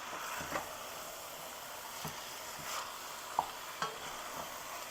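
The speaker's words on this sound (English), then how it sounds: "we're going to let this brown up. Let's give it a couple of more quick stirs." Curry chicken browning in a pot, a steady soft sizzle broken by a few light stirring scrapes and clinks of a spoon, close and with no talk.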